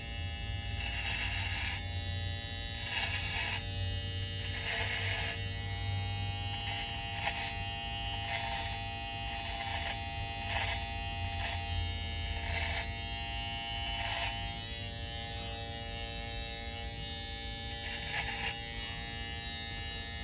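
An electric beard trimmer shapes the underside of a Van Dyke beard along the neck, giving a steady close buzzing hum that runs for the whole stretch with brief changes in tone as the blade moves.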